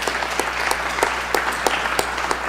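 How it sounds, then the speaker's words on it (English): A church congregation at a Sunday service claps, a steady patter of many hands that lasts a few seconds at moderate volume. "Yeah, we should clap."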